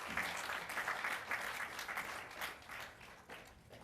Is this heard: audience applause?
yes